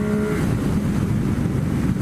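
A car with its check engine light on, driven fast in fifth gear on a mountain road: a steady, loud engine drone mixed with heavy wind rush, continuous throughout.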